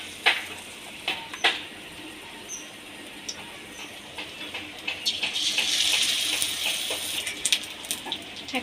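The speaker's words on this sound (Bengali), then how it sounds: "এবার এক একটা পনিরকে আমি ব্যাটারের মধ্যে ডুবিয়ে তেলে দিয়ে দেবো" Batter-dipped paneer cubes drop into hot oil, producing scattered crackles and pops over a faint hiss that swells into a brighter sizzle midway and then settles into intermittent sputters.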